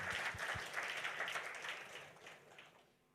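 A church congregation clapping during a worship service, a dense wash of many hands that stays steady and then tapers off toward the end, with faint low thumps early on.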